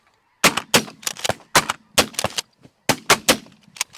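Shotgun blasts at ducks and snow geese during a sunrise hunt, about a dozen loud, close shots fired in quick, overlapping bursts from several guns.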